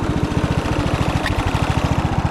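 A crusty old Craftsman riding mower engine runs close up with a steady, rapid low thumping beat, a single brief pop breaking through midway, needing a carburetor clean.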